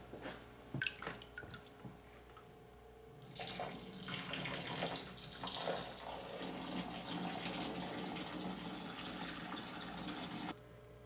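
Water runs from a tap into an aquarium tank, starting with a few drips and clunks before a steady rushing pour that continues for several seconds and then stops.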